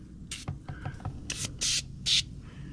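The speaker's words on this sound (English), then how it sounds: "So we're just gonna spray down the whole thing, let it sit for a minute" Super Clean degreaser sprayed over a Saab convertible engine in several short, sharp hissing bursts from a trigger sprayer, close and distinct, with faint clicks between them and no speech.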